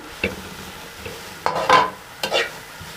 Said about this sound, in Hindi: इनको 1 से 2 मिनट सौते करेंगे, बस ज़्यादा नहीं।